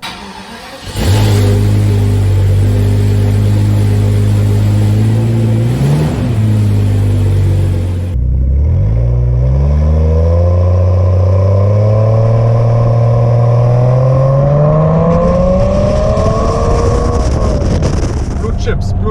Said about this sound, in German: Wir unternehmen jetzt eine kleine Probefahrt